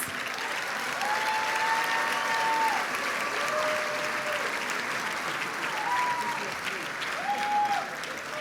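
A college commencement audience claps steadily for the platform party as it exits, a broad sustained wash of applause heard alone at an even level throughout.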